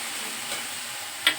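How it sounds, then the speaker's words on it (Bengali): Spice paste being stirred into a Malabar spinach curry in a pan, with a soft steady sizzle and one brief scrape of the spoon near the end. "নেড়ে চেড়ে এখানে মিশিয়ে দেবো বাটাটা"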